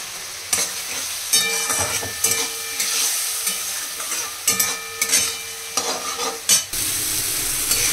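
Bhetki fish curry frying and being stirred in a pan as water goes in, with steady sizzling broken by repeated scraping, clattering stirs and sharp bursts, and no talk.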